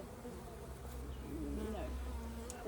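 Bees drone steadily around an open top bar beehive during a December hive check, a low continuous buzz with individual insects passing close, while a voice speaks faintly underneath.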